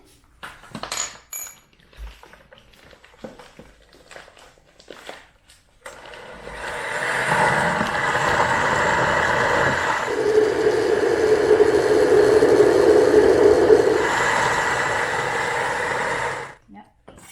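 A kitchen blender whirs loudly for about ten seconds while mixing pizza dough ingredients with sugar, its motor pitch shifting midway, after a few light clinks of utensils.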